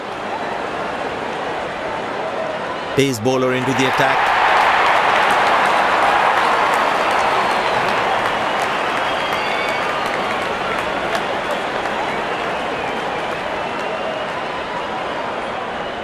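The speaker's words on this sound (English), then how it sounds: "cheered by a good crowd in." A crowd at an India vs Pakistan cricket stadium cheers and applauds as the openers walk out, a steady broad roar swelling after a brief sharp burst and holding throughout while a commentator talks over it.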